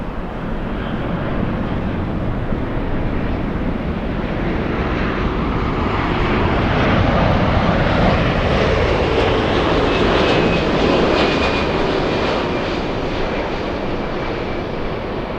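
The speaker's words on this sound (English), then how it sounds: "We're looking at United 33 flying in from Narita. A 787-9 doing the flight, taking 9 hours, 14 minutes." A United Boeing 787-9 jet arriving at LAX from Narita roars past loud and steady, a broad continuous engine rumble with a rising whine that swells through the middle and holds to the end.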